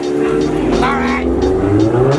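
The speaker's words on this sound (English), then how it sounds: "This is a modified car." Modified Nissan 370Z engine drones and rises slightly while pulling away nearby, with voices talking over it.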